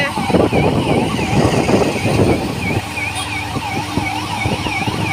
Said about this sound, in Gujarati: એમ્બ્યુલન્સ જાય છે